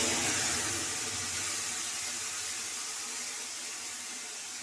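Tap water runs steadily with a broad hiss as a bowl is rinsed in a home kitchen while making a banana-flower curry (mochar ghanto), the splashing even and close throughout.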